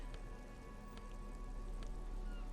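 Steady rain in the video game Disco Elysium, a continuous hiss with a few brief sharp drips or ticks standing out over a low hum, with no talking.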